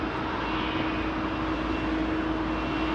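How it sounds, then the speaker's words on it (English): An airliner with Rolls-Royce jet engines at Heathrow Airport gives a steady, even engine hum with a clear sustained tone, at moderate distance and with no voices. "listen to these Rolls-Royce engines"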